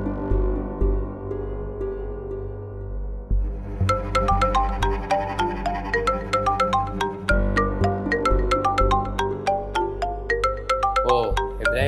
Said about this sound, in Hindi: फिर भी मैं तेरी तसल्ली के लिए सिद्दीक को फोन कर ही देता हूं।